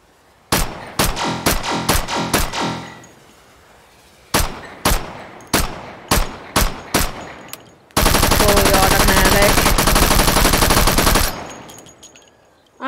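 A 1928 Tommy gun fires two loud, close sets of single shots in quick rhythm, then lets go a sustained automatic burst of about three seconds that ends abruptly.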